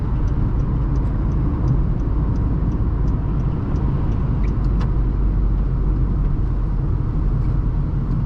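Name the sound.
2012 Honda Civic EX driving on road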